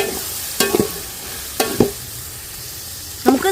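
Cinnamon, cloves and fennel seeds frying in oil for a chicken curry, a soft steady sizzle broken by three sharp stirring clatters from a utensil in the pan.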